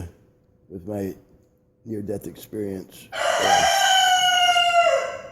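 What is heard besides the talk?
roosters crowing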